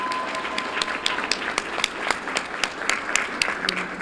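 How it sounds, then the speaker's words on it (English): Audience at a school board meeting claps for student state robotics competitors, a moderate crowd applause with distinct sharp claps standing out over a steady wash. "Let's give these state competitors a round of applause."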